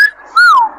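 A man whistles two short notes close by: a brief high tone, a short gap, then a louder gliding note that rises and falls, with no talk.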